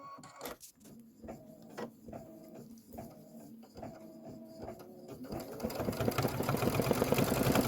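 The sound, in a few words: embroidery machine stitching the center fill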